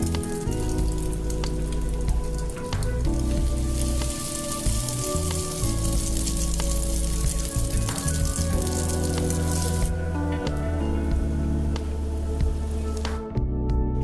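Bread pieces fry in well-heated oil for sweet toast, a loud, steady sizzling crackle with fine popping spatters that runs unbroken throughout, a faint tonal hum underneath.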